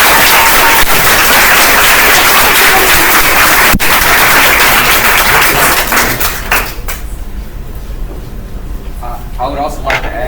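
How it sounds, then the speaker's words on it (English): An audience at a company presentation applauds the professors, loud, dense clapping for about six seconds that then drops away, leaving faint scattered sounds and a voice. "let's go ahead and give a round of applause to professors and"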